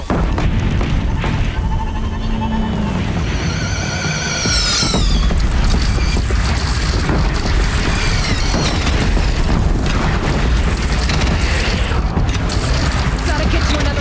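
Cannon fire in Horizon Zero Dawn, booming blasts layered over a dense, loud game battle soundscape with mechanical clatter and bursts throughout.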